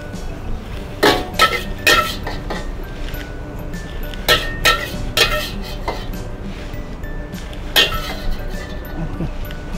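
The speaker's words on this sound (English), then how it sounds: "put a little bit oil and roast the raisin" Raisins roast in a little oil in a pan while a utensil stirs them. Sharp metallic clinks and scrapes against the pan come in irregular bursts over a low steady background, close by, with no talk.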